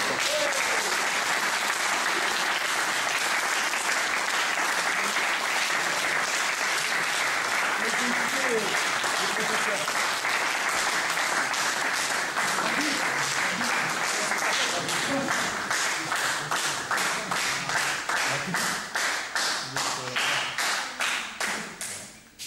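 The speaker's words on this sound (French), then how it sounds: "On peut l'applaudir." An audience at a judo black belt ceremony applauds at length, dense clapping with voices mixed in that gradually turns into a slower, rhythmic unison clap before stopping.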